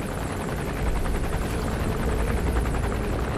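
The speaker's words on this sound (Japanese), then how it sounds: "ヘリがめっちゃくちゃこちらを疑ってる" Steady, loud rotor thrum of a helicopter hovering and circling close overhead in the stealth video game Metal Gear Solid V: The Phantom Pain, a continuous chopping drone with no voices over it.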